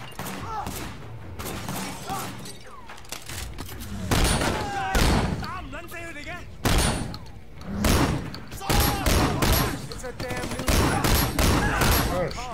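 Gunfire in Sleeping Dogs: repeated loud shots and bursts in clusters, some heavy thuds among them, close and punchy, with someone talking in between.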